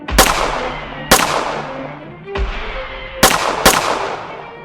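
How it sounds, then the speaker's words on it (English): Cartoon gunfire as thieves shoot at Superman, five sharp, loud shots spaced irregularly, each ringing out with a decaying echo. "As your bullets can't hurt me, you may as well stop shooting."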